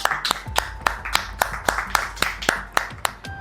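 Hospital staff clap in a steady, rhythmic beat, about a dozen crisp claps in quick succession close by, with faint background sound underneath.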